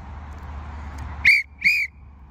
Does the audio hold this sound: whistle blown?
yes